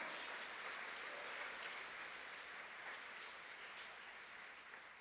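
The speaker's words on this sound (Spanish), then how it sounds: "Dale un aplauso al Señor." Applause from a church congregation, a continuous dense wash of clapping that stays even for several seconds and tapers slightly toward the end, with no voices on top.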